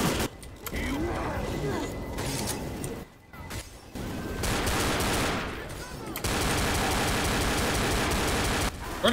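Sustained loud automatic gunfire from the game Left 4 Dead roars in long continuous bursts with brief pauses, mixed with game noise and a voice speaking over it.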